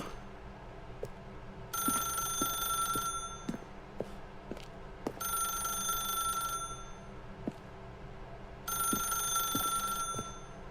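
A telephone in The Stanley Parable video game rings in three repeated bursts of bright bell-like tones, fairly clear over a low background hum and scattered clicks.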